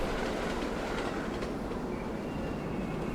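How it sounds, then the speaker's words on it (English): A train rumbles past in a music video. The steady, broadband roar of the wheels on the rails continues throughout, with faint clacking and squeal. "Train's gonna arrive, or it's gonna pass"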